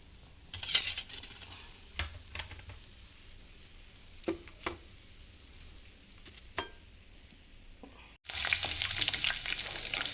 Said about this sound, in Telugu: కరివేపాకు, పచ్చిమిర్చి చీలికలు ఆయిల్లో వేయించి గార్నిష్ చేసుకుంటే చాలా టేస్ట్గా ఉంటుంది